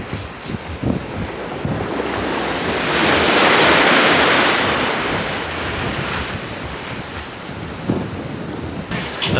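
Sea waves roll onto Margate Beach on the Kent coast, heard as a loud, steady wash of surf that swells in the middle, with wind buffeting the microphone throughout.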